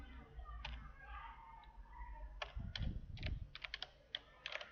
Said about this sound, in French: Je tape ici Gmail.